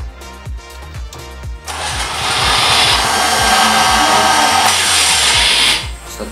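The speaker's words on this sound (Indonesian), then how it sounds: "Nah, kalau sudah dia akan starting genset." Generator set engine cranked by an automatic start panel at a swiftlet house: rhythmic starter chugs, then a roaring surge of engine noise that holds loud and steady for several seconds before cutting off, no talking.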